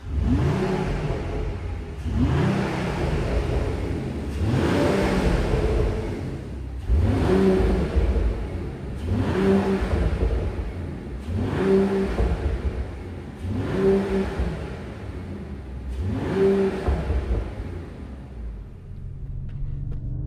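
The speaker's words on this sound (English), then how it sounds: "This button here controls the AMG Real Performance sound and the flaps in the back." A Mercedes-AMG CLE 53 Cabriolet engine with AMG Real Performance sound and exhaust flaps revs repeatedly, about eight rising-and-falling blips in a steady rhythm, close and loud with no talk.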